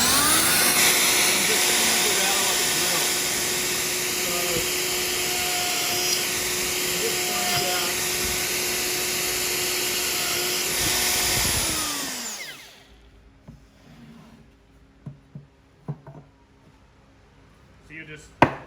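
A wood router cutting a butterfly inlay screams at a steady, loud pitch for about twelve seconds, then spins down and stops, followed by a quieter stretch of faint clicks and bumps.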